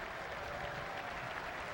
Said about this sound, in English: But Lefty getting a big applause.